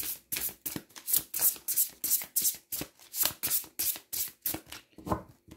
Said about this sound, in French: Donc je vais mélanger.